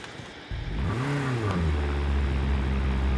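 A motorbike engine revs up in a battle royale video game, its pitch swooping upward and then settling into a loud, sustained drone with no voices.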